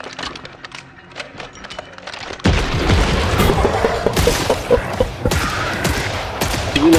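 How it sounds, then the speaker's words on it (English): Rapid bursts of gunfire from hip-fire headshots in Killing Floor 3, loud cracks and booms piling up densely after a quieter opening of scattered shots, with a faint voice in the mix. "hip fire headshots from afar"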